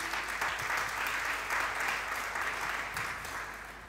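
Worshippers at a church service clap together in acclaim of the word of God. The applause is a thick, even wash that holds steady and then softens near the close.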